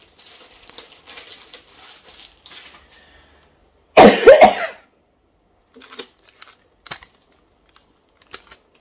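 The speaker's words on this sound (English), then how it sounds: "Still got a cough." A single short cough burst rings out close by midway, surrounded by faint clicks and light handling sounds of small objects being moved about.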